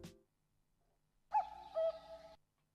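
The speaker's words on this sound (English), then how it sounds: "cuckoo bird? I like a cuckoo bird." A bird call in a music video: a short burst of hooting, tonal notes rings out clearly on its own after a brief quiet stretch, close and fairly loud.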